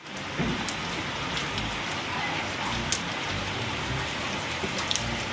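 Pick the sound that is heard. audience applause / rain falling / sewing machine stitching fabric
rain falling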